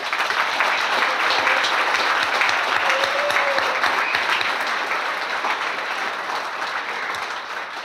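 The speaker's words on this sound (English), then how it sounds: "Can we give them a round of applause?" Sustained applause from a crowded banquet hall at a chamber of commerce annual dinner, honoring the chamber's directors; dense, steady clapping fills the whole stretch and fades slightly toward the end.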